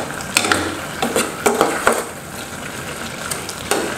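Pork rib curry with red curry paste, kaffir lime leaves and bell pepper is stirred in a hot pot, giving soft sizzling and repeated scraping stirs at an uneven rhythm, close up with no talk.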